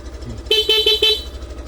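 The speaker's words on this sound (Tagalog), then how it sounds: "Tapos sa busina, syempre stock at saka loud." A loud aftermarket horn on a Suzuki motorcycle beeps four times in quick, even succession, loud and close, over a low idling engine.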